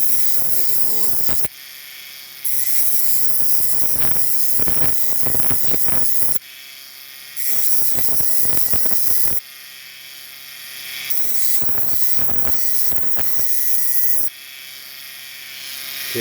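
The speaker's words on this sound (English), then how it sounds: "what I'm doing is grinding the flat on both sides" A rotary grinder grinds flats onto a diecast Corgi Bedford TK Giraffe toy truck part, a loud steady high-pitched whine in repeated bursts with brief drops in pitch and short gaps between passes.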